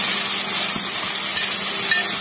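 Green peas sizzle in hot oil in a pan for a potato milk curry, a continuous loud, even hiss with no talking.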